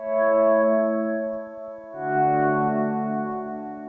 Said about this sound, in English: By default, you usually have the delay and the reverb on.